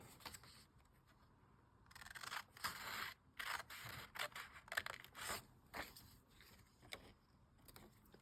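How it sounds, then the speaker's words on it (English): Scissors trim paper for a junk journal, a run of crisp snipping and rustling cuts in irregular bursts, close and fairly quiet with no talking. "let's trim this out"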